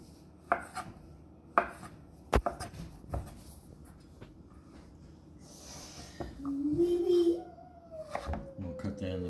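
A knife trimming the skin off a jicama on a cutting board, a few sharp chops and knocks followed by softer scraping cuts, close and moderately loud, with a person talking in the background.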